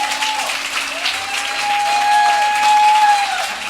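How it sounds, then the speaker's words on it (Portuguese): A church congregation applauds together at an anniversary service, sustained loud clapping from a large crowd rising slightly in intensity, with a sustained tone and crowd voices beneath it. "Vamos aplaudir ao Senhor."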